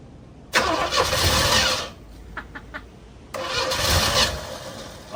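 An abandoned 1968 Oldsmobile Cutlass, fed brake cleaner after sitting in a field, cranks and catches in two loud bursts with a short pause and a few faint clicks between them.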